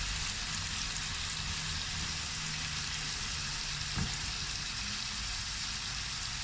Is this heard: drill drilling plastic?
no